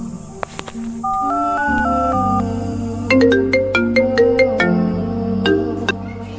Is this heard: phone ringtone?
yes